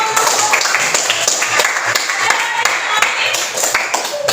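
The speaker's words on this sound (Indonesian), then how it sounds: "Oke, kita aplaus dulu." Classroom applause, steady rapid clapping from a group of students, close and fairly loud, with voices talking over it throughout.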